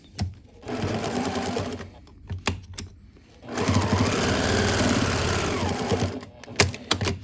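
A sewing machine stitching fabric for an outdoor metal chair pad, loud and close with a fast mechanical whirring hum in two long bursts separated by short pauses and clicks.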